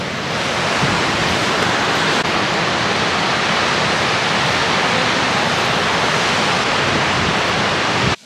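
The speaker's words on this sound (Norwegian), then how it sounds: "Ny dag, ny foss." Gullfoss waterfall in Iceland roars as a steady, dense wash of falling water, loud and close, with no voices over it.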